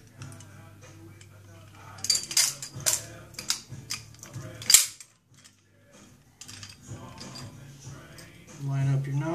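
A 1911 pistol slide is fitted back onto the frame with a series of close metallic clicks and sharp snaps, a voice speaking around them.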